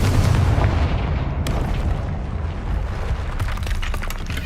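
Confringo fire spell explosion in the video game Hogwarts Legacy, a loud booming blast that rumbles and fades over a few seconds, with faint crackling debris afterward.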